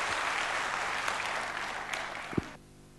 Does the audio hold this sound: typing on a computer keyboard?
no